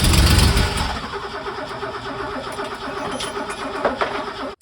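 An abandoned classic car engine, dosed with brake cleaner, cranks and catches with a loud burst at the start, then settles into a rough, uneven running rumble for a few seconds before cutting out abruptly.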